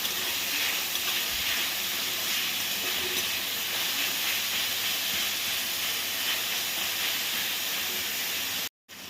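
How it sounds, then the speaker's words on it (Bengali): Chopped onions frying in a pan for fried rice give a loud, constant hiss of sizzling oil that runs unbroken to the end, no talking. "এবার আমি এর মধ্যে সেই পেঁয়াজ কুচনোটা দিয়ে দেবো দিয়ে ভালোভাবে নাড়াচাড়া করে নেব"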